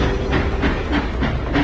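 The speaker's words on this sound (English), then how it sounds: "Hey, let's drive the train!" A cartoon train starting up in a kids' construction video game, loud rhythmic steam chuffs over a steady hiss and rumble, pulsing about every third of a second.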